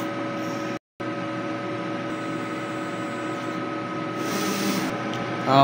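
A printer runs a nozzle test in a steady mechanical drone with a faint whine, a brief drop-out near the start, and a rise in hiss toward the end.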